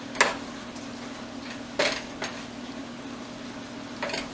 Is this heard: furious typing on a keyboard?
no